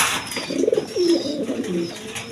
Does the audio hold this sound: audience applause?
no